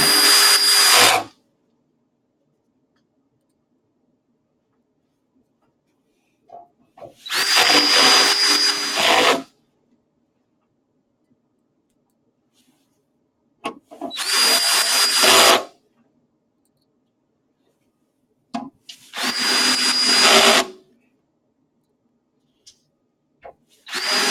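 Power drill driving in six screws, loud whirring bursts of a second or two each, separated by long silent pauses, close up with no talking.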